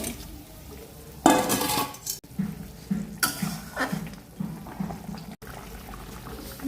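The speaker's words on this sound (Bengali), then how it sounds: "ফুটছে ঝোল।" Fish curry gravy bubbles in a pot, heard as a low simmering bubble up close, punctuated by a few louder bursts of stirring and clattering against the pot, with no speech.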